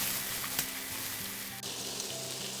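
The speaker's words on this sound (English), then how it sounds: "Fry them for 1 to 2 minutes till they're fragrant" Shiitake mushrooms, onions, carrots, celery, spring onion whites and meat spices sizzle steadily in a pot for a chicken stew, a constant close frying hiss with light stirring scrapes.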